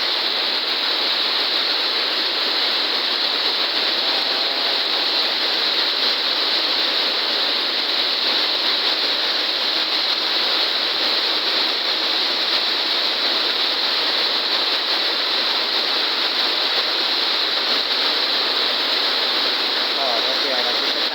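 Heavy rain pouring down in a steady, dense roar, loud and unbroken throughout with no pauses.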